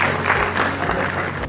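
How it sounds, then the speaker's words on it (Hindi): An audience at a book launch claps in a steady, moderately loud burst of applause that runs the whole time. "तालियों से करेंगे उनका स्वागत।"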